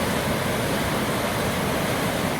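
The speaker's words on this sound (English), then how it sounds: "here we are at Chae Son Waterfall, Tier 6" Chae Son Waterfall flowing at its sixth tier, a steady full-band roar of falling water that stays constant and close throughout with no other sounds.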